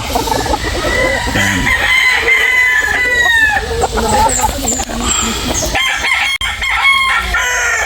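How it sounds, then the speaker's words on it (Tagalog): Roosters crow repeatedly nearby while chickens cluck in the background, with a voice speaking at times. "Silipin po natin yung mga manok"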